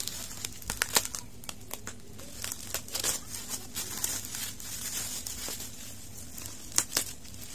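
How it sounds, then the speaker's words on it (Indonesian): Opening a Shopee online-shopping parcel, close crinkling and crumpling of plastic packaging with brief tearing and sharp crackles, irregular and busy throughout, with no talk. "Kita unboxing lagi."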